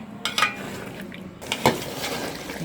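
A metal spoon stirs chicken and fried potatoes in a pot for biryani, with clanks near the start and again midway over a soft, steady sizzle; no one speaks.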